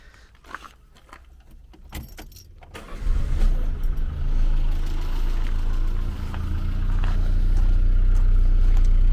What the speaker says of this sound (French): on peut remettre le moteur en route maintenant